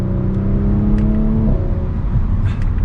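Inside a 2023 Audi S5 Sportback on a drive, a smooth steady engine drone and road hum fill the cabin, the tone rising as the car pulls before settling into an even cruise, fairly quiet and with no talking.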